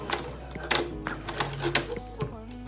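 Sewing machine stitching a seam on an Ankara fabric tote bag, a close mechanical chatter in short bursts separated by pauses, with a voice talking over the stitching.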